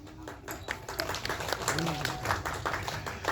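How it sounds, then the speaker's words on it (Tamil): A scattering of claps comes from the audience at the En Suvasame film audio launch, moderately close, with voices talking over the applause throughout. "அதுக்கு நீங்களே கைத்தட்டிக்கலாம்."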